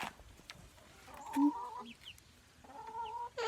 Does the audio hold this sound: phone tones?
no